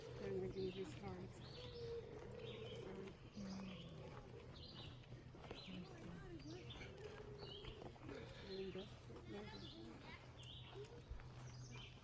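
Birds chirp and sing faintly outdoors at a rural home, scattered high tweets running throughout beneath a voice talking.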